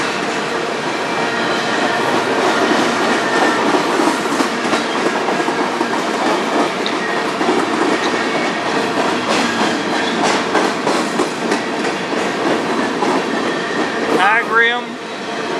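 A freight train with Canpotex potash cars rolls past on a Canadian line, a loud close rumble with continuous rhythmic clickety-clack of wheels over rail joints and a brief squeal near the end.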